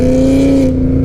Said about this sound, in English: That Mustang sounds immense.